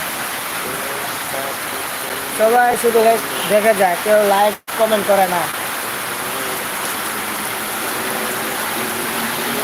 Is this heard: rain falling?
yes